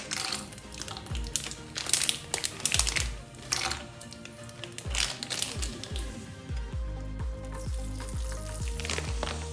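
Cashew nuts frying in hot ghee in a non-stick pan, a steady close sizzle broken by bursts of rapid crackling pops, continuing throughout.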